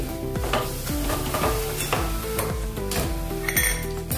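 A spoon stirs Kashmiri chili powder into a potato and eggplant curry in a pan, giving repeated scraping strokes about every half second over a steady close sizzle, with no talk.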